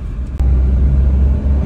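A Maruti Alto on a road test drive gives off a loud, close, steady low rumble of engine and tyres, with no one speaking.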